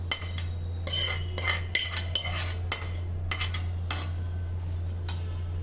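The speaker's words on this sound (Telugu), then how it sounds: "ఈ విధంగా వేయించుకొని నువ్వులు కూడా దీంట్లో యాడ్ చేసుకుందాం." A spoon scraping and clinking against a pan as roasted sesame seeds are stirred into a curry leaf karam podi mix, with rhythmic metallic scrapes over a steady low hum.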